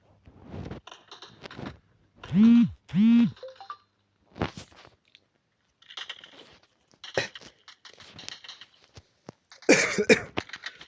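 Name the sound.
cough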